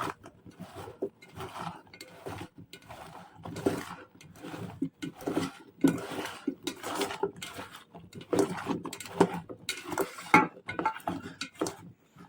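Salted, peppered and spiced potatoes are tossed in a dish, giving quiet, intermittent clinks and scrapes in irregular bursts close by, with no talking.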